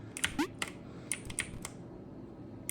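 Fingers type on a computer keyboard in quick irregular clusters of sharp clicks, close and clear over a faint background hum, trailing off near the end.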